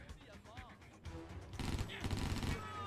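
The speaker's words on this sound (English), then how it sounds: "Who's shooting at me?" Gunfire in the video game John Woo's Stranglehold: a player talks briefly at first, then a loud sustained volley of rapid automatic shots bursts in and continues to the end.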